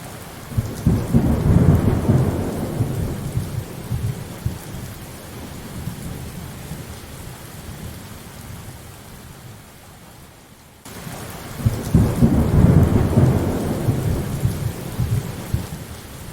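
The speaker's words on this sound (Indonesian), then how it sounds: "Wah, hujan." Steady rain with rolling thunder outdoors during the rainy season, two loud rumbling swells near the start and again near the end over continuous hiss of falling rain, no voices.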